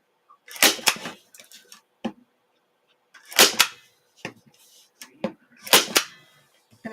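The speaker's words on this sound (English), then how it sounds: "I just go along the edge of that frame and just start stapling" Staple gun driving staples along the edge of a canvas frame for a reverse canvas craft: three loud, sharp clusters of snapping clacks spaced a few seconds apart, with quieter handling knocks between them.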